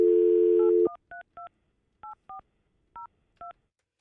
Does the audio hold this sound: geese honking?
no